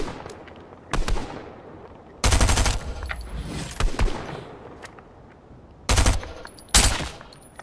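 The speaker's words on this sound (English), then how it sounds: "I headshot them 180 with the heavy sniper, then finished them off with a stinger." Heavy sniper and stinger gunfire in Fortnite: loud, sharp shots ring out in several separate bursts, including a couple of long, sustained volleys, with quiet gaps between them.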